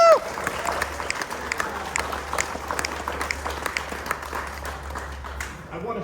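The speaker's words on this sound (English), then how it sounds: "Let's give a round of applause for that." An audience at an outdoor press conference about a World War I boxcar from France claps steadily for several seconds, a dense wash of applause with a loud cheer at the start.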